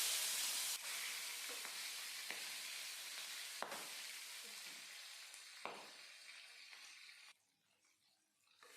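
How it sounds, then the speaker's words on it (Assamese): Fish pieces frying in hot mustard oil in a pan: a loud, steady sizzle with a few sharp pops, which gradually subsides and drops away near the end. "আনফালে এখন পেনত এয়া মিঠাতেল গৰম কৰি লৈছিলোঁ আৰু ইয়াতে এতিয়া মাছ কেইপিচ দি লৈছোঁ।"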